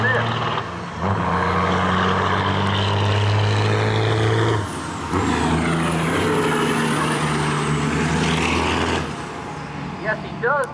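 A 1999 Freightliner semi truck pulls off the starting line at a Cecil County truck drag race, its diesel engine roaring loud and close with long sustained pulls and a gear change midway, while an announcer talks over it.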